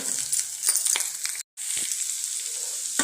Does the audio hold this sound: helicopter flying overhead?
no